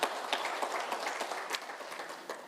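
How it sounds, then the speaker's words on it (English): Steady applause from a crowd, many hands clapping continuously with a few sharper claps standing out. "Let's give him another round of applause."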